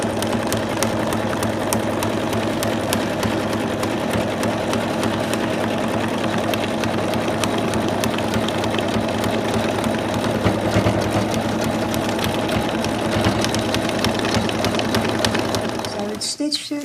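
An embroidery machine stitches an in-the-hoop Santa doll with a loud, steady mechanical hum and rapid needle chatter that continues nearly unbroken before stopping at the very end.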